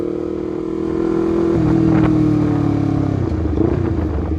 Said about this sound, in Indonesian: Ini motor itu nggak bisa pelan anjir